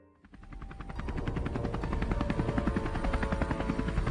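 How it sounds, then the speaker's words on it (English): A helicopter's rotor chops rapidly and steadily, swelling from quiet to loud as it draws near and hangs overhead. "a helicopter, possibly the same one that had chased us, hovered by"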